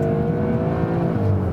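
A Seat Leon Cupra R ST AWD estate accelerating, its engine holding a steady, loud drone throughout with no one talking.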